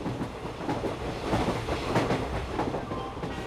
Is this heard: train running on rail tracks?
yes